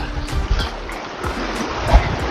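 A strong, fast water current rushes and churns nearby in a continuous wash of noise, with occasional heavier surges and splashes.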